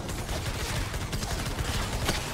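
Gunfire in the video game Fortnite, a dense crackling burst of rapid shots heard steadily throughout.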